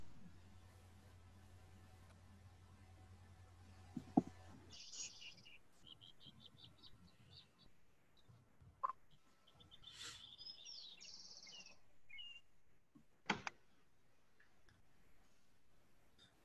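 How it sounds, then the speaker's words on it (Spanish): Outdoor birds chirp and tweet faintly in short scattered calls over a quiet background, with a low hum early on and a few soft clicks, distant and sparse. "Hasta se escucharon pájaros"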